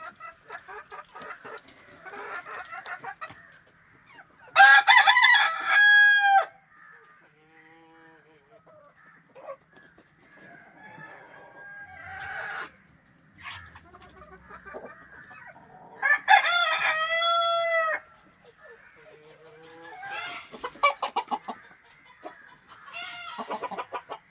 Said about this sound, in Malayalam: നമ്മളെ നാടൻ കോഴികളാണ്.